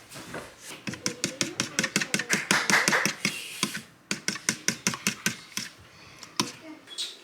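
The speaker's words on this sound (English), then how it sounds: "I'm gonna mix that all together" A whisk clatters briskly against a bowl while eggs, vanilla and cinnamon are mixed, giving quick, evenly spaced tapping strokes in bursts with short pauses, close and moderately loud.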